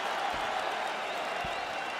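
Arena crowd cheering and applauding at the end of a full 25-minute fight in the UFC 5 video game, a broad steady wash of noise at moderate distance with no clear voices on top.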